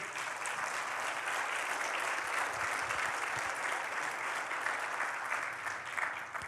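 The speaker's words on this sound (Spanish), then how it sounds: "denle un fuerte aplauso a nuestro Dios" A church congregation gives a strong, sustained round of applause in praise of God, a dense, steady wash of clapping from many hands that fills the room without pause.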